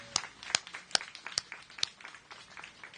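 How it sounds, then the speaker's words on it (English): Audience at an outdoor NYC DOT dining pilot launch event giving light, scattered applause, a handful of distinct claps standing out above softer clapping that thins out toward the end. "So can we just give her another round of applause"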